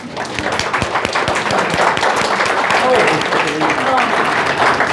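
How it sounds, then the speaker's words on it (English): Audience at a Toastmasters district conference clapping for actors after a stage performance, a steady dense wash of many hands filling the room throughout, with scattered voices mixed in. "Let's give our actors a round of applause."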